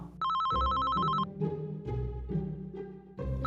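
Landline telephone ringing in the life-simulation game The Sims 4, a loud electronic trill followed by a muffled rhythmic thumping.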